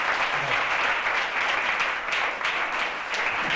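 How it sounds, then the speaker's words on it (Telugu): An audience at a summer camp claps loudly and steadily, a thick, close burst of applause that carries on without a break. "అందరికీ ఒకసారి అన్నయ్యలకు గట్టిగా చప్పట్లు కొట్టండి"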